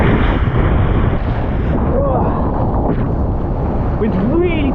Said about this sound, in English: Wind's really picked up, it's great.